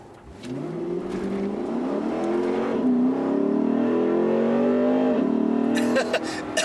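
A 2016 Lexus GS F V8 revs hard under acceleration, its engine note climbing steadily in pitch, loud and close for several seconds with a brief shift dip before the intake wail rises again.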